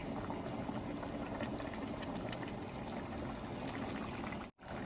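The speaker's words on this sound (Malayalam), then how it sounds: "റൈസ് ഇട്ട് കൊടുത്തതിന് ശേഷം നമ്മൾ പതുക്കെ ഒന്ന് ഇളക്കി കൊടുക്കുകയാണ്" Soaked biryani rice in a pot of boiling water, with a steady bubbling roil and faint stirring swishes, close and continuous, cutting out abruptly near the end.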